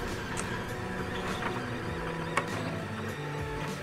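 An MP Mini Delta 3D printer runs with a steady mechanical whir and faint stepping motor tones throughout, at moderate volume with a few small clicks.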